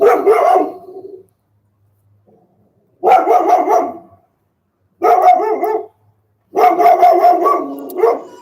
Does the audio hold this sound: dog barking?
yes